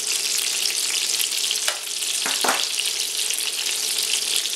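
Shallots par-cooking in hot oil for a Greek stifado, with a steady bright sizzle and splatter throughout and a few sharper pops near the middle.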